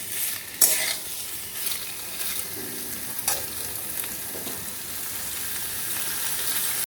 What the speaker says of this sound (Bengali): আলু খুব ভালো করে ভেজে নেওয়া হয়ে গেছে